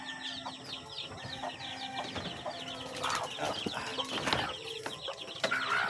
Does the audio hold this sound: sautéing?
no